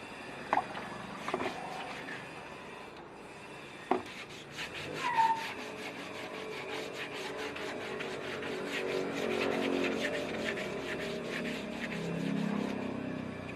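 Steady close rubbing and scraping of putty filler being sanded off a car body before primer, with a few sharp knocks early on and then continuous abrasive strokes that grow slightly louder.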